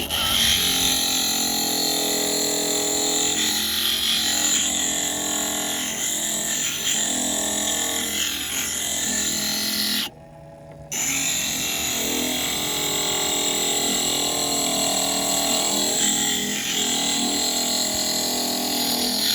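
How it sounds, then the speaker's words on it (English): Grinding a Simpson-style spearpoint from a slab of agatized coral, down into its divots. A steady, harsh, whining grind runs close and loud, with one brief dip in the middle before it carries on. "we need to grind down till we hit those divots"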